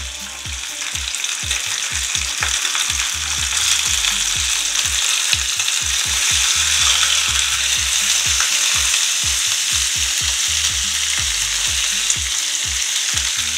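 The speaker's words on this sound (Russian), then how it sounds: "Масло брызжет, но все у нас под контролем." Beef chuck roll steak fries in spattering oil in a pan. The sizzle is loud and steady, with a dense crackle and sharp pops scattered throughout and no voices.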